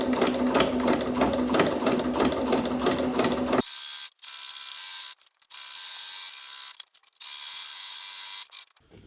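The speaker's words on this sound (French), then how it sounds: "on va passer un point droit sur les côtés et le bas" A sewing machine runs a straight stitch along the sides of a fabric basket, a loud steady whir for several seconds, then stops and gives way to short bursts of quieter handling and movement.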